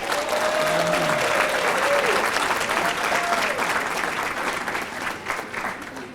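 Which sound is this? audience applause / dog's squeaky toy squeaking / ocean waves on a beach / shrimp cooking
audience applause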